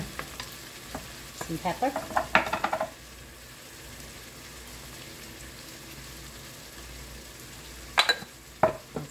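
Pepper beef frying in a pan, a steady close sizzle with bursts of stirring and scraping at the start and near the end; a voice speaks briefly.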